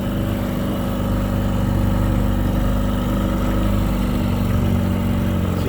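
A vintage Mercury 22hp outboard motor idles steadily and loudly nearby, its even running drone continuous and unchanging throughout.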